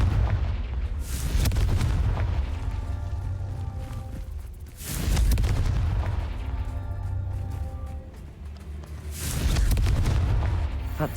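Confringo fire spell explosions in the video game Hogwarts Legacy: three heavy, booming blasts land about every four to five seconds, each with a rumbling low tail and crackling decay, loud and close, with no speech.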